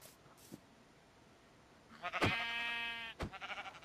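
Sheep bleat in the Minecraft video game, two loud close bleats in quick succession following a few faint clicks, with no talking.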